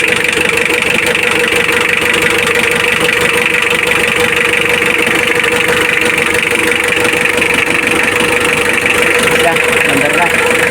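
Diesel engine of a Mitsubishi Adventure idling after a timing belt replacement, a steady loud rumble with constant mechanical clatter running throughout.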